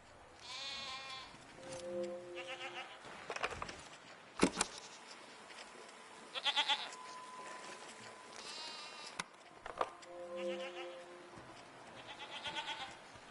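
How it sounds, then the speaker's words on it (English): Goat-like animals bleat in several separate wavering calls spread across the stretch, moderately close, with quiet gaps, soft patter and a sharp knock between them. "What are these strange goat-like creatures?"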